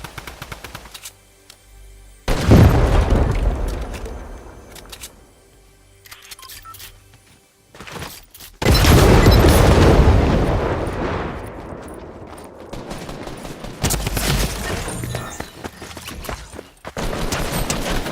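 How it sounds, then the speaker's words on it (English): Loud explosive blasts from C4 in an online shooter match, two big booming bursts with long rumbling tails, mixed among scattered gunfire and game noise. "I take him out with my C4"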